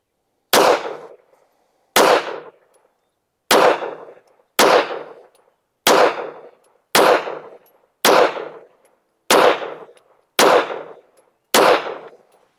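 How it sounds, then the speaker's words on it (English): A Girsan MC P35 OPS pistol fires ten loud, sharp rounds at a target, evenly spaced about a second apart with brief ringing after each, no talk. "Let's shoot a group at the top left target."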